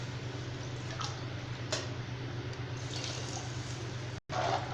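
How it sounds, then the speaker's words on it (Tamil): Water poured into a pressure cooker while making sambar rice, a steady continuous wash over a low background hum that cuts out briefly near the end, with no talking. "இன்னொரு 1/2 டம்ளர் தண்ணி வந்து நான் சேர்த்து ஊற்றிக்கிறேன்"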